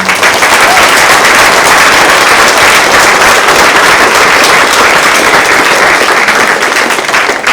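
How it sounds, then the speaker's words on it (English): A symposium audience gives the panel a loud, sustained round of applause, a dense and even roar of many hands clapping close by that holds steady for several seconds with no talk over it. "can we give a huge thank you and round of applause to the panel for being here"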